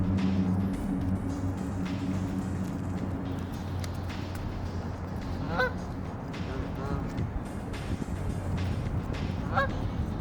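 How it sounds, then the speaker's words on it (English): Geese honk overhead in a few short bursts of repeated nasal calls, moderately distant, over a steady low background hum and faint voices. "You're always hearing geese overhead nowadays."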